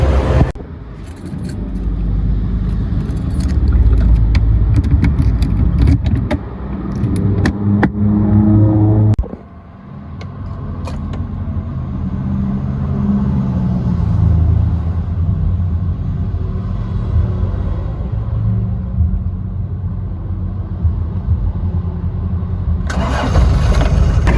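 A Daihatsu Taft with a swapped Rugger engine is started, then settles into a loud, steady rumbling idle that runs on for many seconds with little change.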